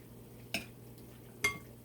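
Spoon stirring a beef kidney marinade of oyster sauce and mushroom sauce in a bowl: two distinct soft clinks of utensil against the dish, quiet and close, over a faint steady hum.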